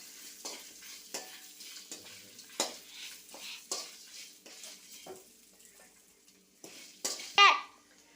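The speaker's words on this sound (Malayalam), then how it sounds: "വറുത്തെടുക്കാം ചൂടാക്കിയെടുക്കാം" Soft frying and sizzling of spices in coconut oil in a pan with intermittent stirring scrapes, a brief louder clatter near the end.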